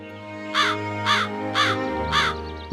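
A crow in an animated story caws four times in an even rhythm. The clear, close calls sit over a soft, sustained musical background.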